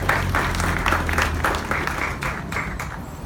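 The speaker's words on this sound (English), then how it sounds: "And so Paige, can we all give her a round of applause for what she's" Audience applause at a police chief's retirement announcement, loud and close, with distinct claps in a rhythmic pattern over a low background rumble, gradually tapering toward the end.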